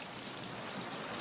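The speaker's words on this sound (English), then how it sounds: "Starting to rain." Light rain begins to fall outdoors in Australian bush, a soft, even hiss of drops that stays faint and steady, with no voices.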